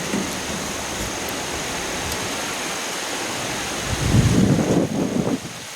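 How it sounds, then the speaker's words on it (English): Strong wind gusting outdoors beside a greenhouse with polycarbonate panels, a steady broadband rush that swells into a louder, rougher gust near the end, with no talking. "now we're getting a good wind"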